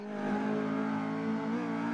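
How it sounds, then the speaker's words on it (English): Race car engine in Automobilista 2 holding a steady high drone, its pitch sagging and wavering as if the power briefly drops off while coasting at Bathurst. "I'm almost certain I'm hearing engine cut out."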